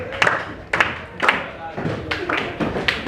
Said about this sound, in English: Clap your hand for your neighbor